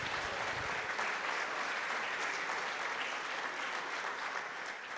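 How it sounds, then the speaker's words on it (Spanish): Steady, dense audience applause at a conference on wheat cultivation sustainability, sustained and fairly loud for the whole stretch, fading slightly at the very end. "otro aplauso por favor a Silvia Ramírez, @SilviaNetwork."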